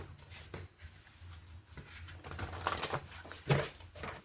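Soft, irregular shuffling and tapping of tarot cards handled close by, quiet and intermittent, with a few sharper clicks toward the end.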